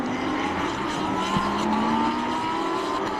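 A Lamborghini Super Trofeo race car at the Shanghai circuit roars past at speed, a loud, steady high-revving engine note whose pitch slides gently downward as it passes.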